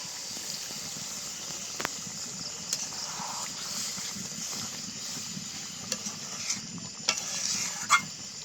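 Chicken for a chicken do pyaza simmers and sizzles in a pan after a little water goes in for gravy, a steady soft bubbling hiss with occasional light spoon taps, close and even, with no talking.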